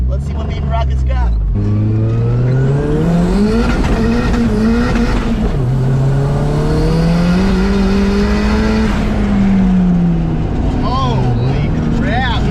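A Honda Integra's engine revs loudly and rises through gears while driven hard, its tires squealing in long, wavering screeches close by; voices can be heard over the engine.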